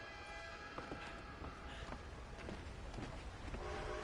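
A train in Red Dead Redemption 2 rumbles past with a steady, noisy clatter and faint tonal whistle traces, a continuous moderate roar with no clear breaks.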